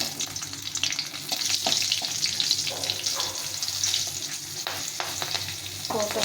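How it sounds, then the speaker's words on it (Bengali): A tempering of black cumin, bay leaf and chillies crackles in hot oil for a rohu fish curry, giving a close, continuous sizzle broken by scattered sharp pops and light stirring scrapes. "এই তেলে আমি ফোড়নটা দিয়ে দেবো"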